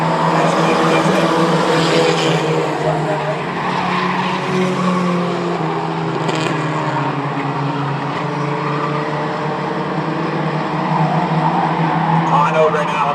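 Mighty Trucks race around Star Speedway in a feature event, a loud continuous roar of engines with tire noise that stays close throughout, with a race commentator talking over it.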